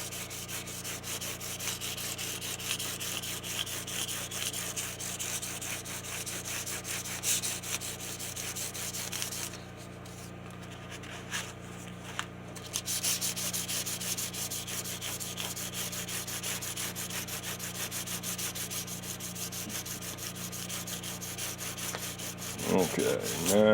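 Sandpaper rubbed by hand over wood in a steady back-and-forth scratching rhythm, close and continuous, with a short pause partway through before the sanding resumes.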